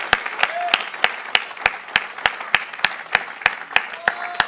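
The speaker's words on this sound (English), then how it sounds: "Let's give the Lord a hand clap of praise in this place today." A congregation at a Sunday school service claps in praise, a steady beat of sharp, evenly spaced claps about three per second, moderately close and continuing through the whole stretch with no talk over it.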